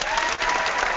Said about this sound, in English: Nothing like canned applause